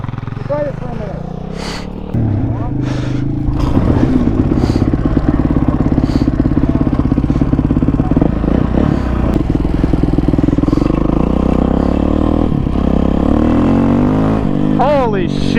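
A carbureted 450 dirt bike, a 2019 Honda CRF450L, idles and then revs up loud and close, with steady engine roar and clatter as it is ridden, and voices talk over it.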